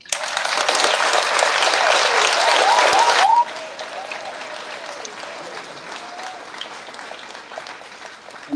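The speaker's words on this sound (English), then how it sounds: "we want to give them a big round of applause" An audience at a Stand With Haiti gathering breaks into loud, dense applause for about three seconds, then it drops abruptly to a quieter patter with faint voices and a brief whistled or sung tone over the crowd.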